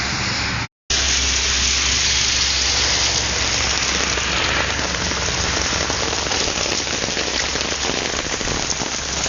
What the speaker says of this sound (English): It just started raining again.